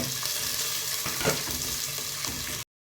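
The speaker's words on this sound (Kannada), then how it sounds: "ಇದನ್ನು ಸ್ವಲ್ಪ ಹೊತ್ತು ಎಣ್ಣೆಯಲ್ಲಿ ಫ್ರೈ ಮಾಡಿ" Tomato, onion, ginger and green chilli fry in coconut oil for a Mangalorean fish curry, giving a steady, close hiss of sizzling with light stirring scrapes that cuts off abruptly near the end.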